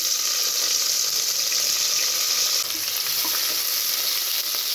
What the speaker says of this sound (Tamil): எண்ணெய் சூடு இருந்ததும் நறுக்கி வச்சுருக்கிற பெரிய வெங்காயம் சேர்த்துக்கிறேன்